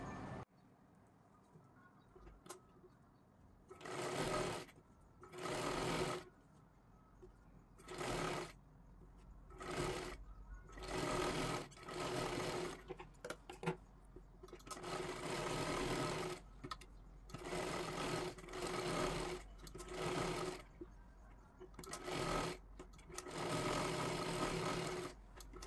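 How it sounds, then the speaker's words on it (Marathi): A sewing machine stitches a blouse in repeated loud close bursts of rapid whirring, each lasting a second or several, separated by pauses in which faint bird cooing can be heard. "इथे खालच्या बाजूला व्यवस्थित शिलाई मारून घ्यायची आहे"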